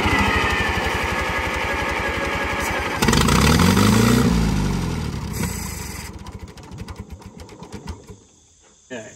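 A 1945 Allis-Chalmers WD tractor engine cranking and sputtering as it tries to start, loud and close with a rough rhythmic chug that surges and then fades into uneven bursts and stops.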